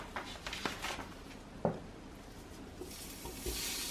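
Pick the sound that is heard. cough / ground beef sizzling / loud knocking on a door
ground beef sizzling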